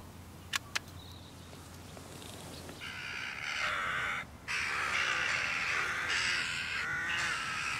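A flock of jackdaws over a stubble field breaks into loud, overlapping caws and chatter that build up and carry on, after a couple of sharp clicks and quieter calls at the start.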